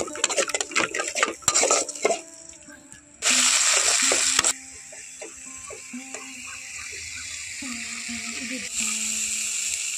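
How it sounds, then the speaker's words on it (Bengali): Water splashed into a pan of frying ground cumin and chilli paste, with a sudden loud burst of sizzling hiss after some spoon and pan clatter, then a softer ongoing sizzle. "একটু জল দিয়ে দিচ্ছি, মশলাগুলো যাতে না পুড়ে যায় সেই কারণে আমি জলটা দিয়ে দিলাম"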